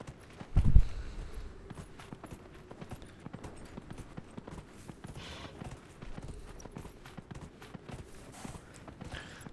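A horse's hooves clop at a steady walking pace in Dragon Age: Inquisition, a soft, even rhythm after one loud low thump near the start, with no talking.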